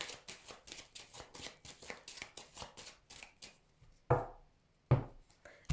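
A deck of tarot cards is cut and shuffled in quick rhythmic riffles, a steady run of crisp flicks that gives way to a few sharper isolated card snaps near the end, close and clear with no talking.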